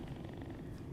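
A toucan named Zima purrs softly in a low, steady rumble, close and quiet with no voices over it.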